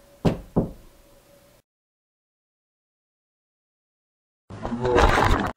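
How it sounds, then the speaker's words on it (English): Two sharp knocks rap against a wall inside a house during a paranormal investigation in Noblesville, Indiana, followed by a long silence and then a burst of louder noise. "something like just a knock like this"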